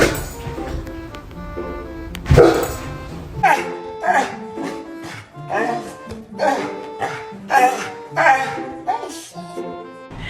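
A black dog barks repeatedly at close range in a steady run of short, throaty barks about once a second, after some earlier clinks and knocks in the room.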